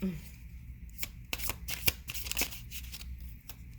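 Tarot cards are shuffled by hand in a series of crisp, close riffling flicks and slaps, arriving in uneven bursts.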